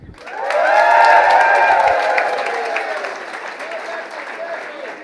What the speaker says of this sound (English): everybody, on the count of three, give me some applause